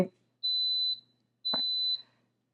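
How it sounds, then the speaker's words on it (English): Two high electronic beeps from a pressure cooker, each about half a second long with a pause between, clear and close, with a brief knock at the start and a clatter in between. "that's going to beep and that's going to start coming to pressure"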